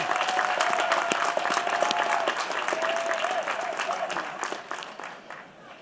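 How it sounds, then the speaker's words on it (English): Sustained applause from a large audience at a college graduation ceremony in Reno, Nevada, dense clapping that stays steady and then gradually fades toward the end, with a few faint voices mixed in. "Please give them a big round of applause."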